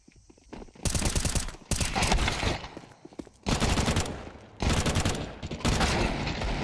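Sustained bursts of pistol gunfire in a Counter-Strike esports match, loud dense volleys in several clusters separated by short lulls, with no talk over them.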